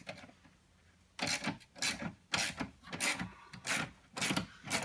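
A socket wrench ratchets on the battery hold-down of a 2012 Hyundai Santa Fe, a series of quiet rhythmic clicking and rubbing bursts close by.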